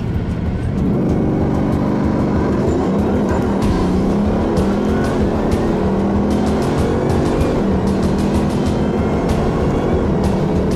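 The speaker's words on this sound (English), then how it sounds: "First time in the Bugatti Veyron Supersport, and I'm about to put the throttle all the way down for the first time." A 2011 Bugatti Veyron Super Sport accelerates hard at full throttle, a loud, sustained engine roar rising in pitch through successive gears with road and wind noise, heard from inside the car.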